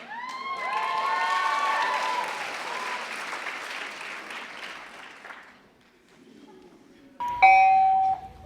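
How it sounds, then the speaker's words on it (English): Applause and cheering fill a graduation ceremony hall for several seconds, then fade to quiet before a loud, clear bell-like ding-dong chime rings out near the end. "Well, there's the bell. I guess our time is up."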